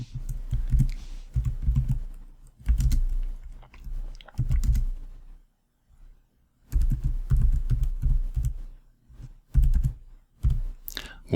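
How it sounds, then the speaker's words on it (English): Rapid clattering keystrokes on a computer keyboard, close and alone, coming in bursts with short pauses and a longer gap midway. "So you would just type in there"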